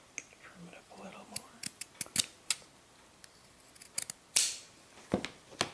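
Scissors snip through fabric at a sewing table in a run of sharp, close cuts, clustered in quick bursts with short pauses between them.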